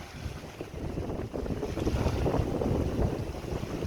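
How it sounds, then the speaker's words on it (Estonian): Waves slapping against a stand-up paddleboard on a reservoir, a continuous choppy wash of water mixed with gusty wind buffeting the microphone, building slightly louder over a few seconds with no voices. "Kohati see laine on ikka väga korralik"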